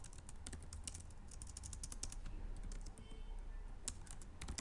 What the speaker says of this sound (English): Wait a minute, I'm just typing.